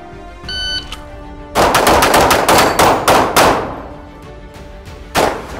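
Rapid pistol gunshots at a USPSA practical shooting competition, a loud close burst of about eight quick reports followed by a lone shot near the end, with a faint tone beforehand.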